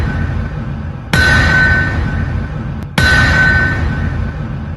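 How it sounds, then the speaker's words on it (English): Two loud metallic clangs of a hammer striking a bell, about two seconds apart, each ringing out over a steady, noisy background. "that's the opening bell of the season"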